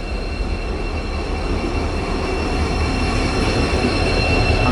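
A passenger train pulling into a station behind a DEMU, loud steady rumble of wheels on rails with a thin high squeal running throughout, close and continuous without speech.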